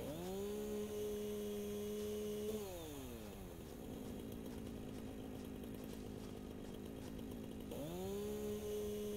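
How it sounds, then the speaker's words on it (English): A chainsaw in the video game Satisfactory cuts a tree, its engine note holding steady, then dipping and bogging down as it bites through the trunk before rising back to a high idle near the end; loud and close with no talk. "chainsaw this tree at least and get that out of the way"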